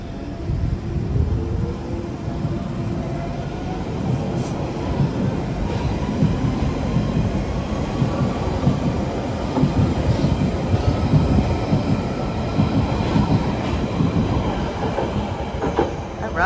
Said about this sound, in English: Here it goes.